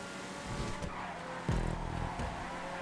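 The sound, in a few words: car skidding in the video game GTA V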